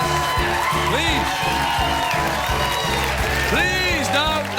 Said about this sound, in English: Please, enough of your completely genuine applause.